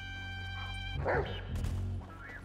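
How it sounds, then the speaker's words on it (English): A dog in GTA V gives a couple of short close barks and yips over a constant musical drone, with a brief thump between them. "trying to really control the damn dog"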